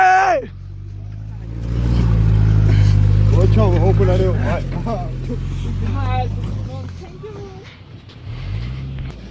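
A stuck car's engine revs loudly while people push it free, the motor's drone swelling and falling with shouting voices over it.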